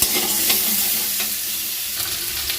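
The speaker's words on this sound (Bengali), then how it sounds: "দেখুন খুঁটির সাহায্যে আমি একটু নেড়ে চেড়ে দিচ্ছি।" Boiled taro pieces are stirred with a spatula in hot frying oil along with green chilies, making a loud, steady sizzle with scraping stir strokes close up and no voices.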